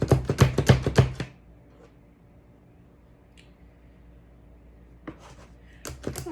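Ingredients for a seven-layer dip are chopped on a cutting board, a quick close burst of sharp knife taps, then near silence before a few more scattered chops.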